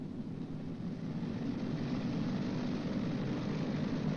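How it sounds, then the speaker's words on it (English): A Boeing B-29 Superfortress engine run up to 2000 RPM, a steady, muffled propeller-engine roar holding a constant drone throughout, moderately distant, with no talk. "Advance number one throttle to 2000 RPM."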